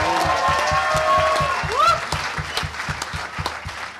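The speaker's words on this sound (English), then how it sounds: "Don't everybody cheer, cheer. applaud, applaud." Applause from a hacker conference crowd at closing ceremonies, rapid clapping mixed with cheering voices and a rising whistle; people talk underneath the clapping.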